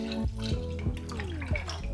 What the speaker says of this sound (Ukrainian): У сотейник з товстим дном наливаємо молоко.